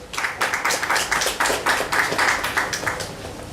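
An audience at a media launch for a celebrity football match applauds, a lively burst of many hands clapping in uneven pulses, fairly close and sustained throughout with no talking over it.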